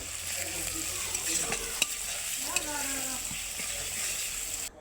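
Onion, garlic, turmeric and salt stir-fried in a pan, giving a steady close sizzle with scraping stirs and a few sharp utensil knocks throughout.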